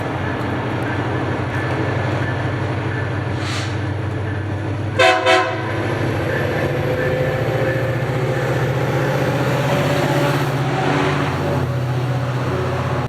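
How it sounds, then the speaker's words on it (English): A northbound FrontRunner commuter train led by locomotive 21 passes at Farmington, Utah, with a loud continuous rail rumble and clatter, cut midway by a couple of short, sharp horn blasts. "we catch another northbound frontrunner with 21 leading, which also gave a horn show."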